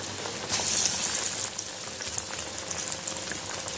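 Spoonfuls of thick vada batter dropped into hot oil, cooked on a medium gas flame; a steady close sizzle and crackle of frying with faint bubbling and no voices.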